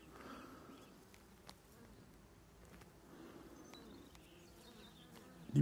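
A honeybee with pollen-loaded legs buzzes faintly as it lands on a person at a beehive, a soft wavering drone with small ticks and rustles, quiet and close.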